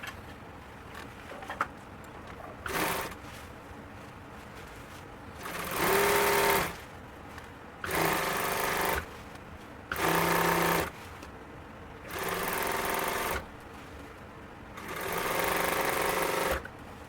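An industrial sewing machine stitches upholstery for a 1951 Ford truck seat, running in five distinct bursts of about one to one and a half seconds each, separated by quieter pauses with faint handling noise.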